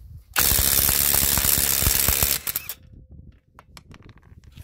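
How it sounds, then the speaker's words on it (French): A Parkside PDSSA 20-Li A1 cordless impact wrench hammers loudly and continuously for about two seconds as it unscrews a bolt, then stops, followed by a few faint clicks and handling noises. "On va essayer de dévisser celle de la Parkside."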